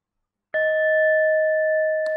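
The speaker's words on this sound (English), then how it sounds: "so I just rang the bell" A meditation bell is struck once to end a sitting session, giving a clean, loud ding that rings out with a steady sustained tone for about two seconds after silence, with a faint second touch near the end.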